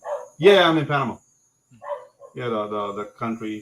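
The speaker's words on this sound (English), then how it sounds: "sorry about the dog" A dog barks loudly and close by in a few harmonic bursts, with a person speaking between and over the barks.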